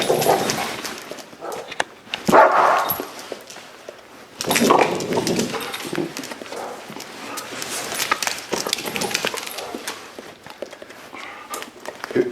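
An aggressive dog snarls and lunges at a trainer, with bursts of growling, snapping and scuffling that swell loudly around two and five seconds, then settle into lower agitated noises and movement.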